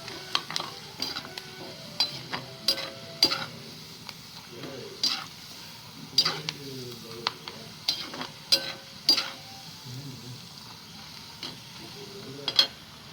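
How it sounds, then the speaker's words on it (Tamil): Ginger stir-frying in a pan for pepper cumin chutney, a steady sizzle under repeated sharp clinks and scrapes of a spatula against the pan, close and rhythmic. "பார்த்தீங்களா, இஞ்சி எப்படி வதங்கி இருக்குன்னு இதுமாரி வறுத்துக்கணும்"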